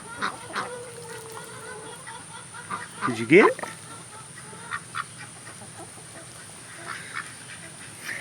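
Backyard chickens calling and clucking while pecking at worms in a garden bed, with short, scattered, fairly close calls and a louder squawk partway through, over outdoor background and a few spoken words.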